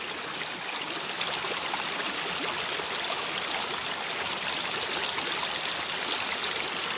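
A waterfall in a natural outdoor setting, spilling into a small pool, gives a steady, dense rush of falling water that stays constant and fairly close throughout, with no voices.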